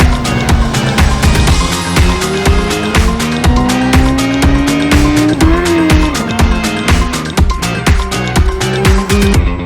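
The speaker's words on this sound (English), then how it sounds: "This is a Porsche, it's a GT3, it's a 992, and we're driving in some snow today." A Porsche 992 GT3 driving on snow, its engine note climbing and holding beneath a loud, rhythmic music track.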